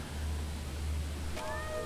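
In the adventure game The Little Acre, a cat gives one short, clear meow near the end, rising out of a steady low hum and faint background hiss.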